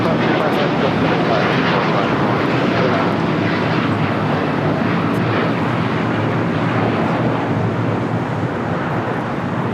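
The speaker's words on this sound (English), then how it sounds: "This is United Airlines 801 taking off to Hong Kong on a 787-9 Dreamliner." A United Airlines Boeing 787-9 Dreamliner takes off at LAX with a loud, dense, continuous engine roar, and voices are faintly mixed in beneath it.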